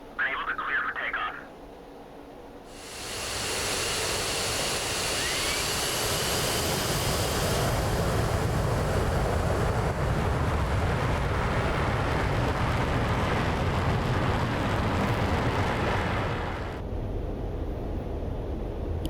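F-15E Strike Eagle jet engines spool up to a loud, sustained roar during takeoff in DCS, a broad steady rush that holds for about fourteen seconds before easing, with radio-style voices speaking over it.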